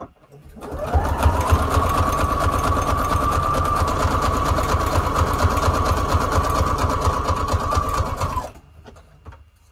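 A sewing machine runs a zigzag stitch at default settings while making junk journal tags, a steady loud mechanical whir with a rapid needle clatter lasting about eight seconds before it stops abruptly.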